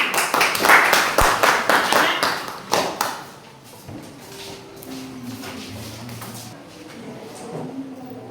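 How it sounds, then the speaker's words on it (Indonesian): A classroom of students claps together in a brief burst of rhythmic applause that fades out within a few seconds, followed by quieter room noise, shuffling and faint voices. "Coba berikan tepuk tangan."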